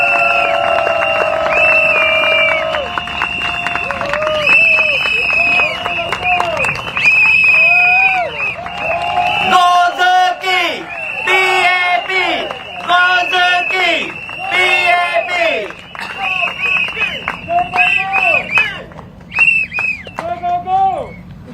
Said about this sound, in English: Let's cheer for Go Zerki!